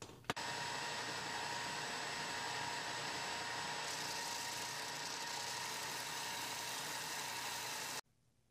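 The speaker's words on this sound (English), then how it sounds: "I'm going to do that mostly on the oscillating spindle sander." An oscillating spindle sander shapes a guitar neck heel, running with a steady, loud motor whine and grinding hum that holds evenly before cutting off abruptly near the end.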